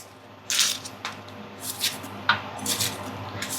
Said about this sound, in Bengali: এই তো পেঁয়াজ কাটতে নিছি